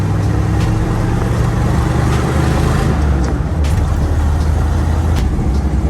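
A 1976 Jeep Wrangler CJ7 on the road, its engine and road noise forming a loud, steady rumble that fills the whole stretch with no pauses, heard from inside or close by, no talking.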